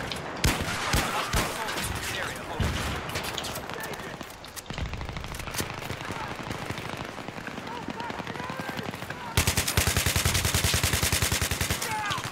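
Sustained automatic AK-74M rifle fire in a Battlefield 3 team deathmatch on the Canals map, rapid bursts rattling nearly nonstop, growing louder and denser in the final seconds, with a voice talking over it.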